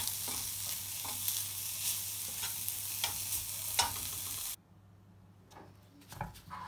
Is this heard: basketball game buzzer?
no